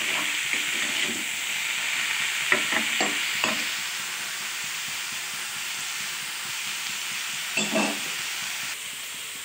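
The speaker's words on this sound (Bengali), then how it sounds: "এখানে আমি করলা ভাজা বসিয়ে দিলাম, আলু দিয়ে করলা ভাজা।" Bitter gourd and potato slices frying in a pan in a home kitchen, a steady loud sizzle and hiss with occasional sharp stirring scrapes and clinks, no talking.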